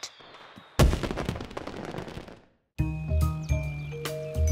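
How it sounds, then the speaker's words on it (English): Quiet fireworks in a children's cartoon go off as a short volley of crackling pops and bangs, followed after a brief silence by bright, jingly music. "Fireworks. They're still a Bing thing. But only if they're quiet."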